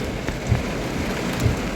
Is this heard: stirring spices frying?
no